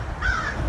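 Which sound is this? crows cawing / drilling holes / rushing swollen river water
crows cawing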